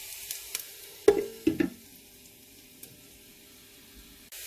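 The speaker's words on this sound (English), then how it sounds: "I'll let that to continue to fry with the onions until the onions are brown" Onions and whole cumin fry in a pan for a Thai-inspired red prawn and chicken curry, a faint steady sizzle with a few clinks and stirring scrapes close by, no voices.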